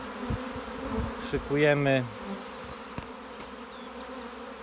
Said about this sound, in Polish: Właśnie wychodzi rój z ula.